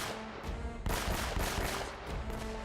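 Video game gunfire in Uncharted as a sniper fires on the player in dangerous ruins: a burst of loud, dense shots with cracking impacts over a steady game-soundtrack backdrop, no speech.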